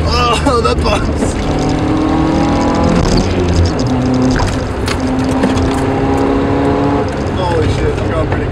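A Toyota KE70 with a 4AG engine driving fast, its engine droning loud and steady from inside the car with shifting pitch, road and wind noise, and a voice over the top.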